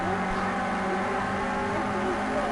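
A Renault Clio Cup race car's engine drones loudly and steadily from onboard during a race at the Red Bull Ring, holding high revs throughout with no pauses.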